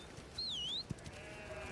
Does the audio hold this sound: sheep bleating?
yes